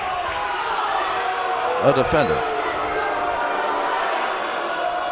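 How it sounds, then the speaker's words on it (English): Basketball fans boo a call at a Royal Oak vs Berkley game, a steady wash of crowd noise filling the gym, with a sharp ball bounce and sneaker squeaks near the middle and an announcer talking over it. "Fans are booing that."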